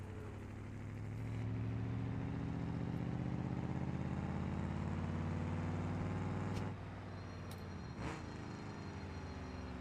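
A junk 6.9-liter engine runs in a car in BeamNG, a steady loud low drone held throughout with a brief revving swell near the end, no talk over it.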